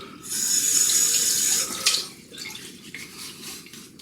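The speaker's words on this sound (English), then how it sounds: "I'm going to have a face wash with the soap from the brush" Running tap water splashes into a sink as a face is washed after a wet shave, a loud steady gush for about a second and a half, then softer splashing and dribbling.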